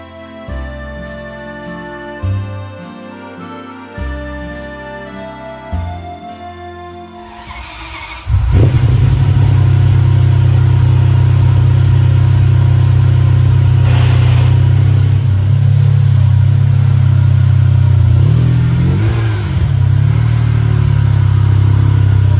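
A car fitted with an aftermarket ANSA exhaust starts up after some music and settles into a loud, close, steady idle with a deep droning note and a brief blip of revs near the end.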